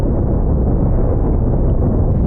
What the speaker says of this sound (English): bunch of cannon shells downrange. Just heavy, heavy cannon fire